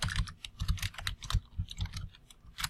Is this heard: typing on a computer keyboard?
yes